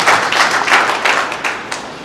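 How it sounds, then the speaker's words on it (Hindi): An audience at a Holi gathering claps loudly in irregular bursts, with close sharp hand claps and thumps at an uneven rhythm and no talk over them. "मैं चाहूँगा कि जोरदार ताली एक बार बजा करके आपने ये इजाज़त।"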